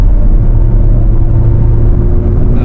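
A Hyundai Palisade SUV, the top Prestige trim in eco mode, cruises at highway speed as its engine hums under a loud, steady road rumble with a mild rise in revs.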